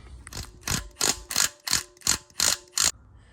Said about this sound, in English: I think we're gonna be using a 22 with an impact gun